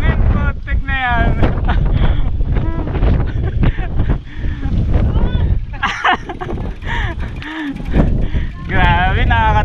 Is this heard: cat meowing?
no